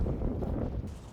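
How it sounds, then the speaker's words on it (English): Strong wind gusting across an open field during metal detecting, a heavy low rumbling buffet against the microphone that stays loud and steady with no talking. "It's very windy now."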